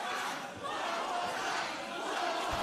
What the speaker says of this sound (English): as the crowd chanting one more time here